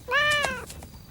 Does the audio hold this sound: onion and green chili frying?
no